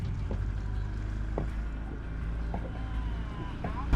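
A motorboat on Elephant Butte Lake runs at low throttle with its propeller turning, giving a steady low engine drone over wind and water noise, with faint knocks throughout.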